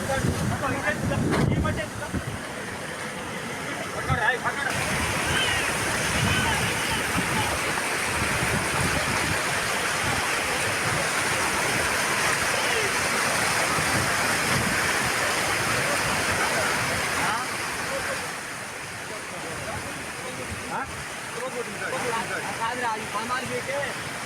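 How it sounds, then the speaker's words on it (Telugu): A monsoon-swollen stream in Bhadradri Kothagudem, flooding after heavy rains, roars as a loud, continuous broadband rush of churning water, buffeted by wind noise on the microphone throughout. "భారీ వర్షాలకి వాగులు ఉధృతంగా ప్రవహిస్తున్నాయి"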